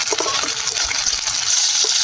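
Murshidabadi chicken pieces fry in hot oil in a pan, a close, steady bubbling sizzle with small pops and spatters throughout, with no one speaking.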